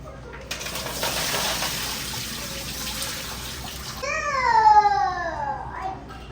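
Water pours and splashes steadily as it drains from cut potatoes in a container, with a squeaky, tonal scraping near the end, all close up.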